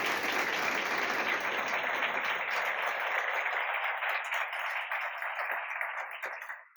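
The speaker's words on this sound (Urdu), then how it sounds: "آؤ خدا کے کلام کو زوردار تالیوں کے ساتھ ویلکم کیجیے" Loud, sustained applause from a church congregation, a dense wash of clapping that carries on steadily and then fades out in the final moments.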